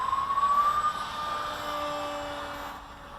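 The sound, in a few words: Firstar 200 RC model plane motor climbing in flight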